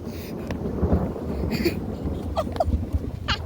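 Outdoor wind gusting and rumbling across the microphone as rain approaches in Ukmergė, Lithuania; a steady low roar with irregular buffeting throughout, with brief faint voice fragments.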